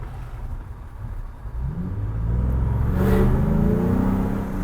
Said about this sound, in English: You can hear the turbo now. Yeah, the turbo's a lot louder.